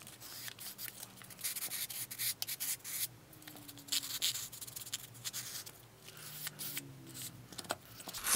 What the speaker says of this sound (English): so I'm going to continue sanding